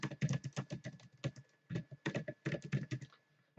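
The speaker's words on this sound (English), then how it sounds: "What happened to my typing?" Typing on a computer keyboard during a Python programming lesson: a close, busy run of rapid key clicks in uneven bursts with brief pauses, heard alone.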